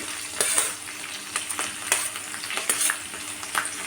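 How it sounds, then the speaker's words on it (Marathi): Asafoetida and green chillies fry in oil with a soft, constant sizzle, punctuated by scattered spoon clinks and stirring scrapes, nearby and without voices. "आणि छान मिरची आपल्याला भुजायची आहे"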